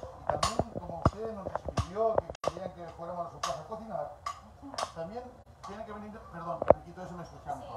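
A knife chops ingredients for an Ecuadorian seafood casserole, making sharp irregular knocks on a board mixed with occasional clinks, while someone talks throughout.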